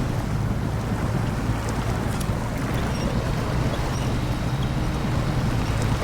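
An off-road truck pushes through deep water in SnowRunner, giving a continuous, steady wash of sloshing and churning over a low engine rumble with no breaks.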